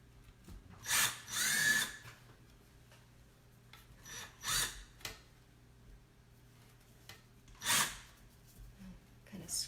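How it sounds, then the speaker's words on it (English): A screw driven through a pre-drilled hole into a wooden baseball crate, heard as three short grinding bursts separated by quiet pauses, close and moderately loud. "I'm gonna start the screw through my pre-drilled hole"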